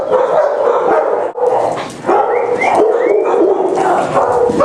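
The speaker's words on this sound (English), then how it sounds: "The dogs in the other groups are barking." A pack of dogs at a dog training bootcamp bark, yip and whimper continuously, a loud, close, overlapping chorus from several animals.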